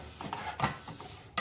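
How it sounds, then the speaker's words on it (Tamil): Vermicelli is stirred in ghee in a pan while it roasts for milk payasam, with soft scraping strokes and a faint sizzle in a brief close-up burst. "இது இதே நெய்யிலே போட்டு நல்லா வறுத்துக்கலாம்."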